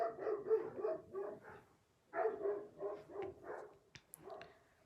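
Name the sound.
dogs barking outside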